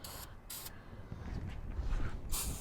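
Cleaner is sprayed onto the AC condenser coils of a 1966 Thunderbird in three short, hissing bursts from a trigger bottle, with faint handling and rustling between them.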